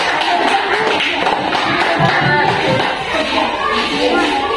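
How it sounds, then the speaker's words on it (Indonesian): Audience applause for a presenting student group in a classroom, a dense steady wash of many hands clapping, fairly loud and continuous throughout, with faint voices mixed underneath. "Tepuk tangan untuk kelompok 1"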